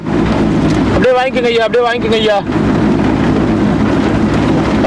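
Heavy rain pours steadily during an outdoor food offering for sadhus at Tiruvannamalai, a dense wash of noise broken by a burst of loud voices calling out in the middle.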